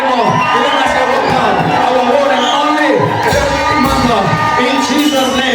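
A crowd welcoming a reverend and his wife back from South Africa cheers loudly, with shouts, whoops and high wavering ululation layered together in a dense, continuous roar up close.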